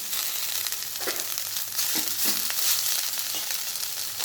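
Coriander, garlic and ginger fry in a pan with a steady, close sizzle, broken by a few soft scraping stirs.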